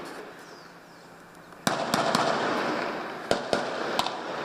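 Gunfire during a police operation against drug traffickers: several sharp, loud cracks in irregular succession over a continuous roar of outdoor background noise, with no speech.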